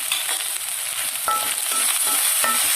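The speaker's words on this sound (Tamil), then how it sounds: "போட்டு கொஞ்சம் நல்லா வதக்கிக்கலாங்க. இஞ்சி பூண்டு பேஸ்ட் நல்லா பச்சை வாசம் போகட்டுங்க." Ginger garlic paste sautéing in oil in a pan while making mutton kothu kari gives a steady, close, dense sizzle with a few brief scraping stirs, and no voices.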